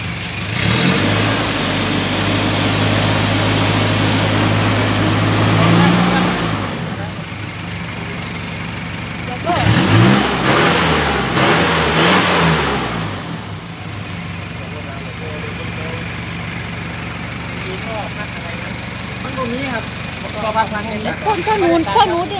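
A car engine with a modified exhaust and no muffler revs hard and loud for several seconds, drops away, then roars again briefly before settling into a lower rumble with traffic noise.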